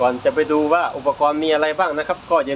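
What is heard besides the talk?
No distinct noise like a dog, phone or traffic.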